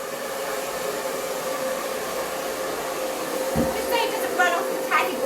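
A hair dryer blows steadily and loud on a small dog's thin, fluffy coat, a continuous whooshing drone throughout, with brief squeaky sounds and a faint voice toward the end.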